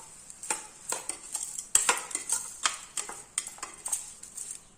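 A spoon stirring soaked moong dal and rice together in a metal vessel, a series of quiet, irregular clinks and scrapes repeating close up, with no talking.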